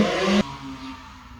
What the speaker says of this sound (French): il y a une moto qui est passée dans ma rue qui m'a complètement interrompue